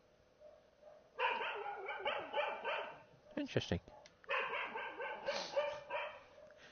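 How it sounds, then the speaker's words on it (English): A dog barks in repeated bursts inside the PSVR horror game The Chantry: one rapid run of barks, a short pause with some thuds, then a second run. A person briefly speaks once over it. "Can you guys hear the dog barking?"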